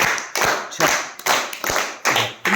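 Children in a classroom clap in short bursts, several rounds of quick, close hand claps separated by brief pauses, with a little talk mixed in.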